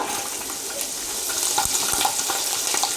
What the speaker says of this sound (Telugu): ఇవి కాస్త వేగాక ఇప్పుడు పచ్చిమిర్చి వేసుకుంటున్నాను